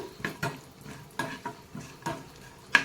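Dry fruits frying in a pan while a spoon stirs them, with five or six distinct scraping clinks against the metal at uneven intervals over a faint sizzle, close up and without talk.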